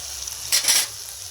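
Cashews dropped into hot oil in a pan while cooking a cabbage ghonto, giving a short burst of bright sizzling and stirring that swells for under half a second over a quiet background, with no talk.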